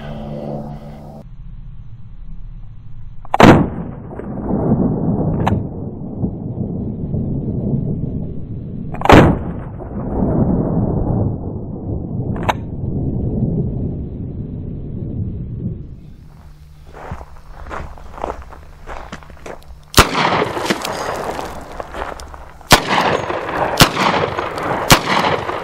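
A snubnose .38 Special revolver fires standard and +P rounds outdoors: several loud, sharp shots with booming decay, separated by pauses, then quicker bursts of shots toward the end.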